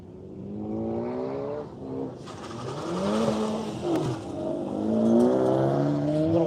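A Porsche race car accelerating at the Grissom AFB track, engine note rising through gears with a passing roar, moderately distant and steady, with no talk over it.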